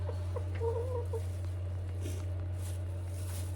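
A rooster recovering from wry neck clucks a few times in short bursts early on, over a steady low hum, then only the hum continues.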